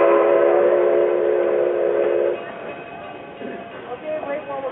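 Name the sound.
Durango & Silverton train whistle blasts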